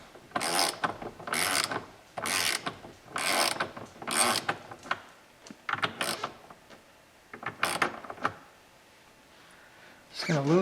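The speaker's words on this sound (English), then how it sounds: "now I got a wrench and I'm loosening the bolt on here." Ratcheting wrench loosening a bolt on the steering wheel of a 2013 GMC 2500HD pickup, a run of quick clicking, ratcheting bursts up close, then a pause and a couple of shorter bursts.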